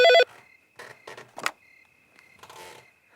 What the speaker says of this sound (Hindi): इतनी रात को फोन कौन कर रहा है?